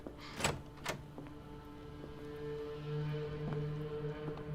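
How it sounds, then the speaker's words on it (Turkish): A door is opened in a period drama scene: two sharp knocks or latch clacks, then a low creaking groan as it swings, heard nearby against quiet room tone. "Aç kapıyı, Hiram'dır."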